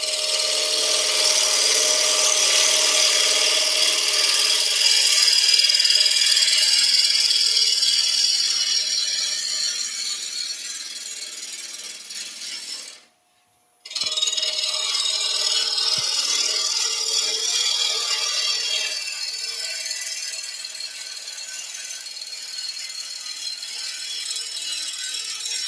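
A tool cuts a green oak bowl blank spinning on a wood lathe, giving a steady close scraping, rasping hiss that stops briefly about halfway and then resumes.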